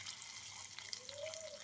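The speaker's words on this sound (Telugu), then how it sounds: "ఇందులో మనం కాజు బాదం రెండు ఫ్రై చేయాలండి నెయ్యిలో." Cashews and almonds frying in ghee, a faint, steady sizzle with soft crackles, quiet and close, with no talking over it.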